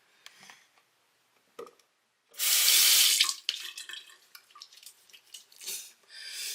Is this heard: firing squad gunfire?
no